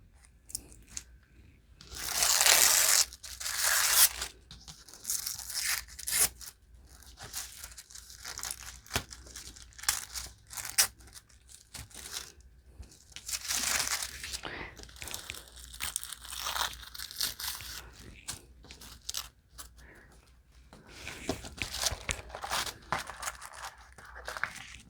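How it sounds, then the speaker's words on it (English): Tape peeled from the edges of printed tissue paper makes loud tearing and crinkling bursts, separated by quieter rustling, close up and with no talking. "you see how well this tape is removing from this paper, so we can reutilize it"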